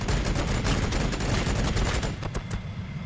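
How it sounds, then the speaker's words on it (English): Rapid, dense bolt pistol fire from the Warhammer 40000 Battlesector video game, a continuous volley of loud overlapping shots with a few distinct bursts standing out toward the end. "Let's move you up a little bit and let you shoot your bolt pistols into here."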